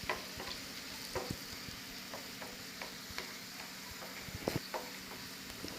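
Onions fry in oil until golden, giving a soft, continuous sizzle broken by light clicks and stirring taps, fairly faint and with no talking.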